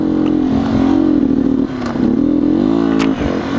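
A 2019 Beta 125 RR S dirt bike engine revs steadily and loud up close, its pitch dipping and rising as it bogs in second gear, with a brief sputtering break near the middle.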